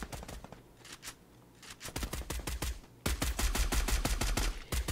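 Gunfire from the Free Fire mobile game: bursts of sharp shots, sparse at first, then dense rapid automatic fire that grows louder and fills the last two seconds.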